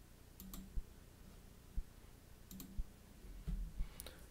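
Several sharp, close computer mouse clicks, spaced irregularly across a quiet room hum, with a pair of quick clicks near the end; no talking.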